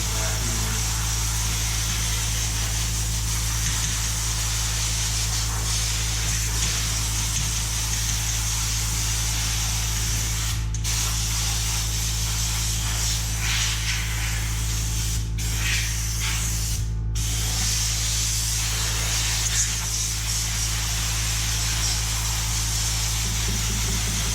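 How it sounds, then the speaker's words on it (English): Vacuum cleaner working over a very dirty heating baseboard, a loud, steady motor drone and airflow hiss running throughout, with a few brief dips and rattles as the nozzle moves along. "Vacuuming."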